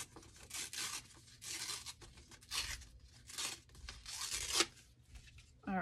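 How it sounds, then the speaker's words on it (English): A strip of paper is torn in repeated quick rips, a series of close, crisp tearing bursts spread across several seconds with short pauses, all quiet. "I'm going to tear a strip."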